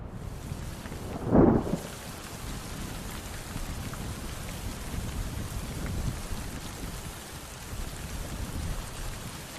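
Autumn rain over grassland, a steady soft patter of raindrops throughout, with one brief thunder crack near the start before the rain continues alone.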